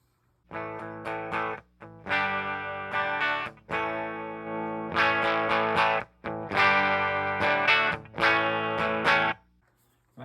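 Electric guitar chords with a light overdriven edge, strummed in several bursts separated by short silences, loud and close with no talking.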